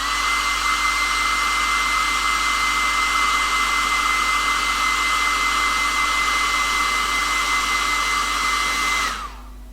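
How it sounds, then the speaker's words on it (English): Hair dryer blowing on a freshly painted miniature, a loud, close, steady whine and rush of air running continuously before switching off at the end. "So I'll dry this with a hairdryer."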